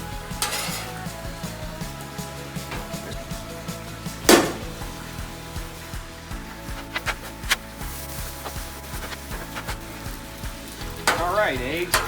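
Eggs fry on a Blackstone griddle with a steady sizzle, broken by scraping and clinks of a metal spatula against the flat-top, including one sharp clang, heard close.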